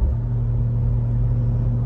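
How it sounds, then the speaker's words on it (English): A BMW with a B58 engine idling after boost leaks were fixed: a steady, close, even low hum with a firm rumble, no revving. "my car is sounding a little bit different now"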